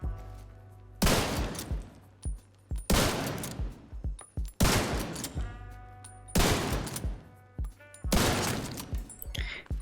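Marksman rifle shots in The Division 2, five loud sharp cracks spaced about every one to two seconds, each trailed by a brief ringing tail and small game impact sounds.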